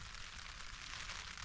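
Steady soft hiss of rain falling, even and continuous with no voices, fairly quiet throughout.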